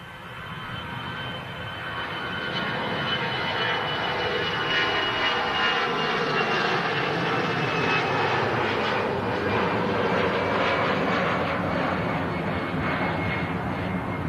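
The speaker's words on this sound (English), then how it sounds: "Brussels Airlines on the roll." A Brussels Airlines jet airliner rolls for takeoff, its engine roar building from moderate to a loud, sustained broadband rumble that holds steady throughout.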